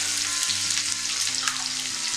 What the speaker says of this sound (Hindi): हल्का सा भून लेंगे। जब प्याज थोड़े नरम हो जाए तब डालेंगे गाजर।